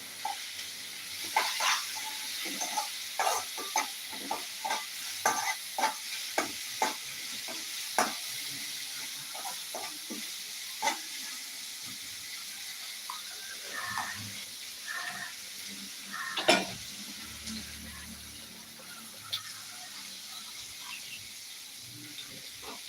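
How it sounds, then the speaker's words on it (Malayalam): Okra with salt and masala is stirred in a pan on the stove, with soft scraping strokes and light clinks over a gentle, steady sizzle and hiss, fairly quiet and free of talk. "ഉപ്പൊന്ന് ഒഴിച്ചിട്ട് നന്നായിട്ടൊന്ന് ഇളക്കി കൊടുക്കാം"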